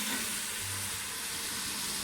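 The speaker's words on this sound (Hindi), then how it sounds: "मसाले को अच्छी तरीके से भून लेंगे 3 से 4 मिनट" Steady, loud sizzling hiss of masala frying in a pan, continuous and close throughout with no pauses.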